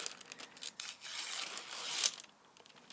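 A sharpened Masamoto KS kitchen knife slices through very thin paper, giving soft, uneven crisp rustling and tearing bursts that swell and fade, followed by near quiet.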